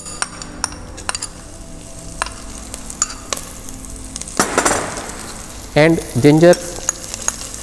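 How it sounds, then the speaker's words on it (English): Fenugreek seeds, mustard seeds and green chilies sizzle in hot oil while a spoon stirs and clinks against the pan, with crackling bursts and a short stretch of talking over the cooking. "Let them saute in the oil."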